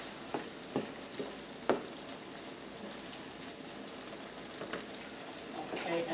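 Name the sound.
stirring beef broth into shepherd's pie filling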